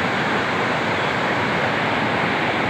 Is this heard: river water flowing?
yes